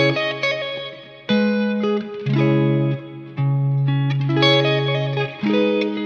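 Electric guitar playing a chord progression without the A bass note, so it resolves conclusively; a handful of clean sustained chords and picked notes ring out alone with light reverb.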